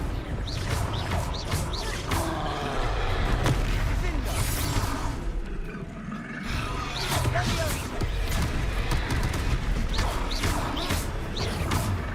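Confringo spell blasts striking a troll in a video game, booming explosive hits and crashes within a dense, loud battle din, with voices talking over them.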